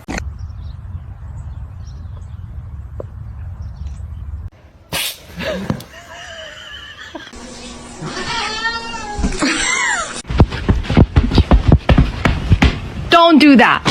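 A kitten meows repeatedly indoors, short high cries following a quiet stretch of low background noise, with people talking nearby and a few sharp handling sounds.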